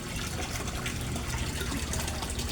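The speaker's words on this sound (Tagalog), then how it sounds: "Rizan Electromagnetic Air Pump." A Rizan ECO-003 electromagnetic aerator air pump bubbles water in a koi fish setup, a dense continuous close gush and fizz of churning water at steady loudness.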